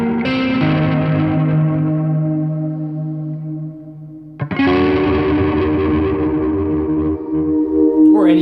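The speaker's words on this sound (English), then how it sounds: "I call this the SpongeBob, you know, guitar sound because it reminds me of Bikini Bottom." Surf-style electric guitar played through a Tone Tailors effects pedal, two sustained strummed chords ringing out with a shimmering, echoing modulated tone, loud and alone with no talking.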